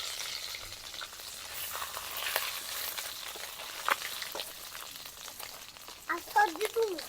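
Ghee fries in a pan for a village-style crab dish, giving a soft crackling sizzle with scattered pops and light stirring, and a brief faint tonal sound near the end.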